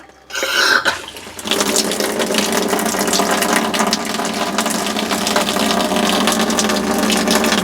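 Water rushes from the hot side of a bathroom faucet in an R-Pod travel trailer during winterization with pink antifreeze: a short cough and clunk at the start, then a steady, loud close gush that continues unbroken.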